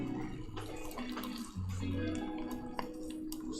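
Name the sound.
cream being slowly poured into hot caramel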